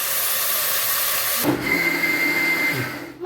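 Mutton sautéing in oil in a pan gives a loud, dense sizzling hiss that shifts midway into a slightly calmer frying sound with faint clatter, heard up close.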